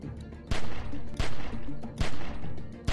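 Gunshots ring out in a tense shootout in The Walking Dead: 400 Days, four sharp, loud reports spaced roughly half a second apart, each trailed by a short echoing tail.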